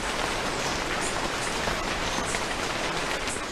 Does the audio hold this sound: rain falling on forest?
yes